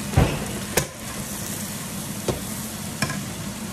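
Water spinach stir-frying in a pan, a steady loud sizzle with a few sharp spatula scrapes spaced through it, heard up close with no speech.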